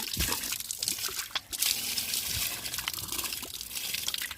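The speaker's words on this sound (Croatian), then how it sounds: "2019 su podigli ga, puštaju vodu iz obližnje reke" Water released from a nearby river flows steadily near a village on a mountaintop, a continuous close rushing and splashing with small drips and gurgles, no voices.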